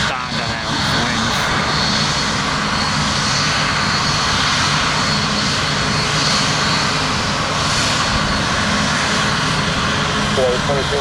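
Jet airliner engines roar during takeoff at Tampa airport, a steady loud broadband rumble filling the scene throughout with no letup.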